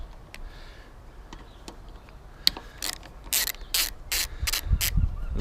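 A ratchet loosens the ignition coil bolts on a lawnmower in a no-spark repair. A few scattered clicks come first, then a close burst of rapid ratcheting clatter in short bursts toward the end.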